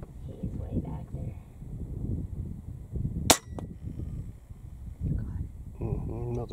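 A Umarex Gauntlet .25 air rifle fires a single slug outdoors, one sharp crack at mid-clip amid wind and murmured voices as people talk.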